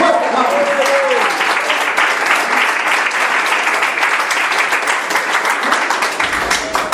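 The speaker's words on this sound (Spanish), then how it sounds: "Un aplauso al Señor." A church congregation breaks into loud, sustained applause that fills the room for several seconds, dense clapping from many hands with a few voices mixed in.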